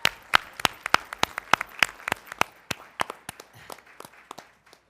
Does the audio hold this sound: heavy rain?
no